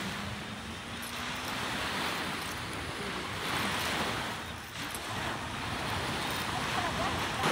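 Strong wind buffets the microphone over a steady rush of surf, a continuous blustery roar rising and falling at the shore of Ajman Beach, UAE.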